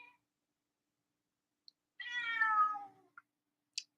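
A house cat gives a single clear meow lasting about a second, close and fairly quiet, followed by a few tiny clicks in an otherwise silent room.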